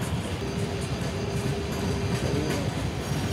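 A simulated express train pulls away in Trainz Simulator, a steady loud rumble of wheels on track with clattering rail noise and a faint tonal whine, continuous throughout.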